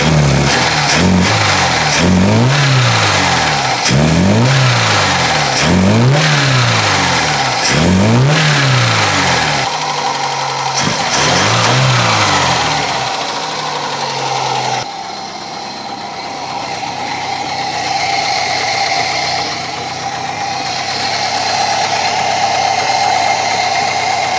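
An Opel Ascona engine with an automatic choke revs hard several times in quick repeated surges, each climbing then dropping, followed by a louder sustained full-throttle roar with an intake whoosh.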